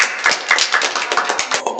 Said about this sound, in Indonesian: Oke, benar, beri tepuk tangan.